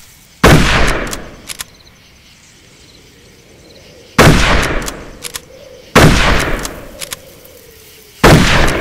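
Gunfire from the Darkest of Days video game, shooting at a soldier: four loud, sharp shots spaced a few seconds apart, each with a trailing echo, and no talking.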